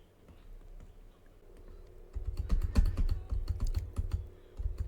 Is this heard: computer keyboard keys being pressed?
yes